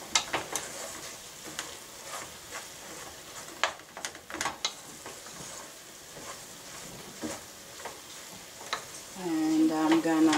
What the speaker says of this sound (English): Gonna stir it so it go all mixed.